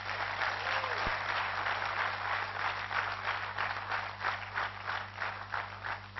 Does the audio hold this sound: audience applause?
yes